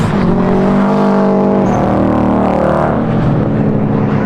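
Race and drift cars ripping around a track at a 2JZ S14 two-step and drifting event, a loud, close, sustained engine roar with a rising then falling pitch as cars pass.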